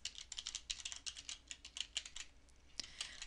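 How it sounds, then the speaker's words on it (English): Rapid, uneven keystrokes on a computer keyboard as a password is entered, a close, quiet run of clicks with no talking. "Type in your password."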